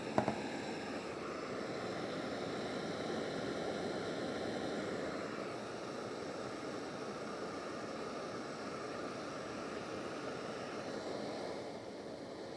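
A Jetboil MiniMo stove burner flame hisses in a steady, soft broadband rush that continues unbroken for the whole stretch, close by with no voices over it.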